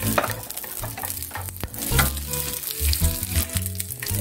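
Onion sizzles in a hot pan during a shrimp stir-fry with potato, carrot and green bell pepper, with steady frying hiss under frequent scraping and stirring knocks, close and fairly loud.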